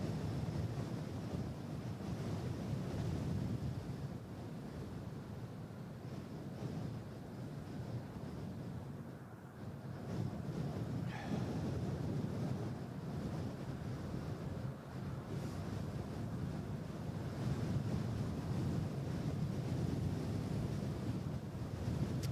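Strong gusts of wind batter an outdoor microphone at an airport, a continuous loud rushing roar that rises and falls slightly, with no voices.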